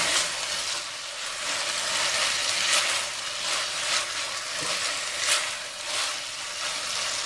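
Chorizo, red wine and pea risotto sizzles in a pan as stock is ladled in and stirred, giving a soft, steady frying hiss with light scraping swells and no voices.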